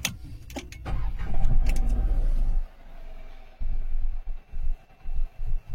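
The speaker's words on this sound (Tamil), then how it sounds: "நம்ம என்ன பண்ண போகிறோம்னா வண்டியை ஸ்டார்ட் பண்ண போகிறோம்." Renault Triber car being started: keys jangle and clicks up close, then the engine cranks and catches, settling into a low idle with a few later bumps and knocks.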